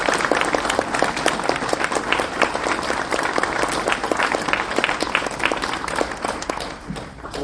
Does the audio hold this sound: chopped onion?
no